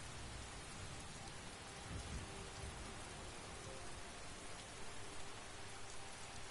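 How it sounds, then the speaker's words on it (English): Steady rain falls in Skyrim, a dense even hiss with faint low rumbles of thunder beneath, continuous and moderately quiet, with no talking. "It's raining."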